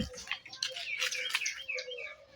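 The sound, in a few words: birds chirping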